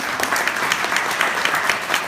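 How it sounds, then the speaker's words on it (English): Audience applause for city staff at San Gabriel's 2016 State of the City address: a brief, steady wash of many hands clapping together, evenly loud throughout. "Let's give them a big round of applause."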